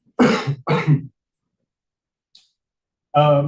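Two quick throaty coughs close together, a brief pause, then a third cough, loud and near, during a City of Nedlands meeting.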